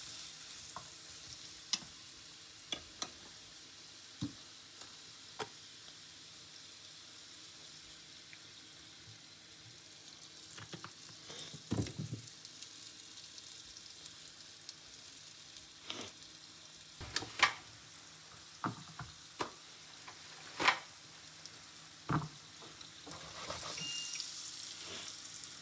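Tofu pieces frying in oil in a pan, a faint continuous sizzle with scattered clicks and scrapes of turning the pieces, quiet and close.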